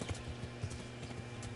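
Horse hooves clop along at a steady trot in the video game Kingdom Come: Deliverance, soft and fairly quiet under a thick wash of ambient game background.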